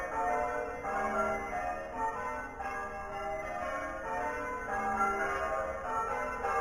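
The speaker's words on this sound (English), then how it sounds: "What do you think about these church bells?" Church bells ring steadily at night with layered, overlapping tolls that hold at an even loudness from start to finish, with no voices over them.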